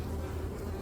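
A dense, steady hum of honey bees buzzing near an opened hive during a winter inspection, brief and continuous with no voices.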